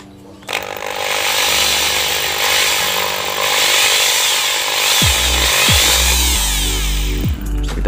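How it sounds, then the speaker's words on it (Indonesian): A loud, buzzing power drill runs continuously for several seconds, with a few low thumps and bumps near the end as it keeps running. "kita ambil bor dulu guys ya."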